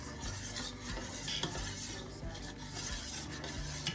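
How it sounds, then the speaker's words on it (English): A utensil stirs a hoisin sauce mixture in a bowl, making close, quiet scraping and light clinking in an irregular, continuous rhythm, with no talking. "So you need to just stir all that."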